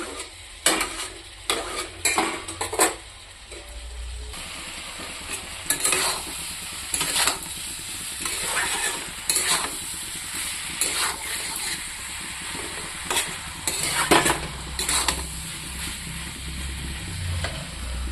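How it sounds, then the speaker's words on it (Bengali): Potato pieces frying with ground spices in a pan for a vegetable dish with potato and tomato, stirred with a spatula; close, steady sizzle broken by repeated scraping strokes and clinks of utensil on metal. "মশলাটা আলুর সাথে ভাজা হয়ে গেছে"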